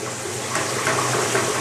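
Hot water is poured into beef curry cooking in a pot, a brief, loud, steady rush of liquid splashing in close up.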